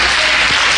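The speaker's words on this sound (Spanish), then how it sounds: "Dele un aplauso al Señor." A church congregation applauding during a Holy Week service: loud, dense clapping from many hands fills the whole brief moment without any voices.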